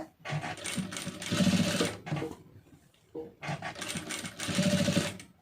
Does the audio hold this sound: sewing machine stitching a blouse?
yes